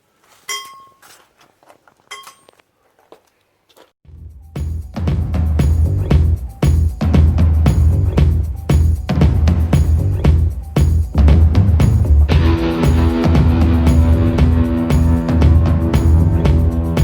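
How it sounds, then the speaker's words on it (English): BMW E46 318ti car being jacked up: a few light metallic clinks, then close, loud, steady repetitive clanking and ratcheting as the jack works, with no talk. "Okay, now I'm gonna jack up the car."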